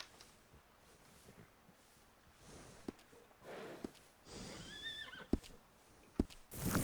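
Horse in the Red Dead Redemption II video game whinnying and snorting, with a rising neigh amid soft hoof clops and scattered thumps, fairly quiet and close.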